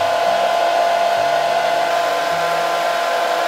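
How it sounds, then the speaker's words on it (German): A handheld hair dryer blows steadily and loudly from start to finish during a basic makeup routine, a constant close whoosh with a slight motor whine and no pauses. "Dann hole ich meinen Föhn und dann föhnen wir das ein bisschen."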